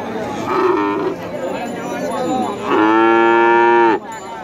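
A cross-breed cow and her calf low at a village cattle market, two drawn-out moos close by, the second louder and longer, with faint crowd murmur and a voice in the background.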